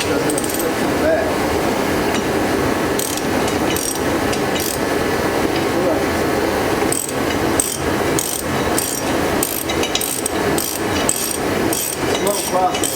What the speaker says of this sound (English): Kind of pull out and turn the ratchet at the same time